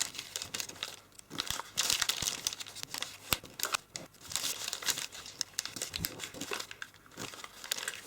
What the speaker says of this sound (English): we're going to fold this top layer back in and add a crease